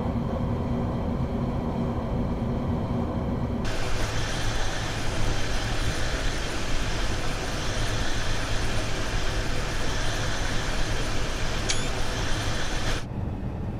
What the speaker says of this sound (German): Da kommt der ICE.